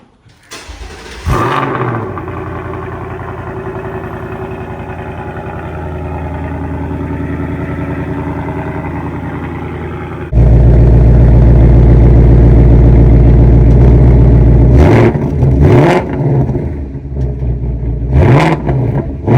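A 2024 Ford Mustang fitted with a new air intake starts up and idles, then revs loudly and climbs through several sharp bursts of acceleration while driving, heard close and alone.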